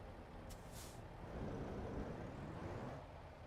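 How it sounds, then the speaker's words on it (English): A truck's air brakes hiss in the American Truck Simulator driving game, a short sharp release burst near the start over steady engine and road rumble. "I could have sworn I just heard his air brakes."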